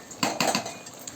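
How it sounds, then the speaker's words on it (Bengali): A spoon scrapes and clinks against a pan while salt is stirred into bottle gourd curry, giving a few quick, close metallic knocks in a quiet kitchen. "তো আবার ভালোভাবে নাড়াচাড়া করে আমি লবণটা মিশিয়ে নিচ্ছি।"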